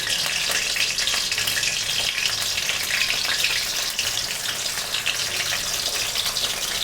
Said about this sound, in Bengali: শুটকিটা ছেড়ে দিচ্ছি আর রসুনগুলো ছেড়ে দিচ্ছি।